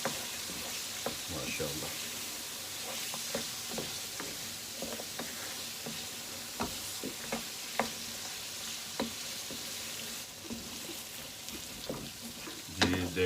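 Mutton and potato curry sizzles and fries in a pan while being stirred, with steady close frying hiss and scattered scraping and clinking strokes; someone speaks briefly.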